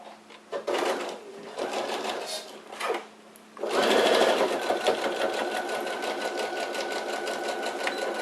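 A domestic sewing machine stitches fabric scraps for a small pouch, starting with a few short reverse bursts for the backstitch, then running in one long steady buzzing stretch, close and clear.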